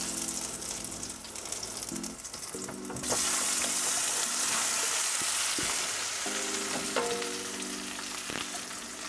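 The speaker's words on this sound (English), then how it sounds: "You hear the sizzle?" Potatoes hit hot oil and burst into a loud, steady sizzle that continues and crackles up close, with a low hum and light clinks beneath.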